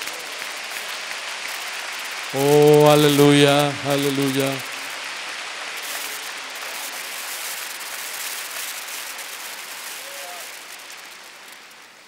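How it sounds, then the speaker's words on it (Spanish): A church congregation breaks into applause for a few seconds, clapping that swells then fades, while a voice calls out praise over it and a preacher speaks around it. "Un aplauso para el Señor Jesús."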